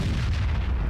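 A single heavy tank cannon shot from a tier 10 FV215b tank destroyer in World of Tanks, a deep, loud booming blast that fills the whole brief moment with low rumble.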